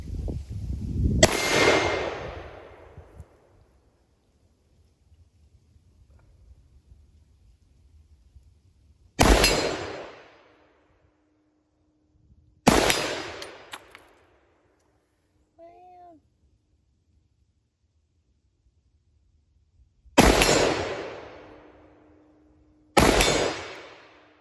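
Five loud, sharp gunshots from an M10X shotgun ring out at an outdoor range, spaced irregularly with long gaps and decaying echoes between them, plus a brief faint metallic ping in one gap.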